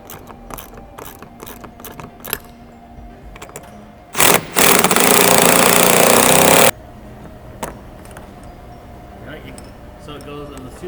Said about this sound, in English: we have to insert some riv nuts in these holes here and then mount the side piece